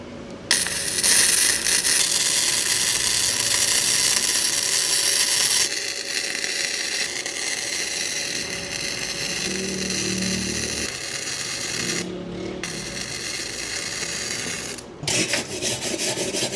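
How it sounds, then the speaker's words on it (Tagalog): MIG welding with a Kusama 2-in-1 MIG/MMA welding machine set around 70, producing a loud, steady crackling and sizzling hiss close by, with brief breaks where the arc stops and restarts. "Tapos, welding na natin to."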